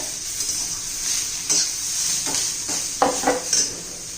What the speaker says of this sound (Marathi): हे सर्व कांद्याबरोबर छान असं परतून घेऊया